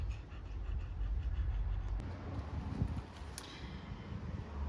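A dog breathes heavily with steady, rapid panting close by, a continuous rough breathy rhythm with no talking over it.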